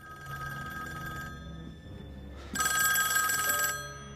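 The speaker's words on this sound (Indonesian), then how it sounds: "Namun tiba-tiba, sebuah telepon berdering." A telephone ringing in a scene from Squid Game episode 6, heard as two bursts of bright, steady electronic ringing, with a short lull between them over a low background.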